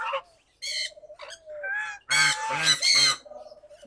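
Loud, harsh honking calls from several ducks, in bursts with short gaps, close by and with no talking.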